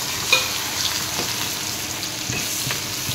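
Chopped onions frying in oil in a pan for a banana-stem fish curry, a steady close hiss and sizzle with faint stirring scrapes, no talking.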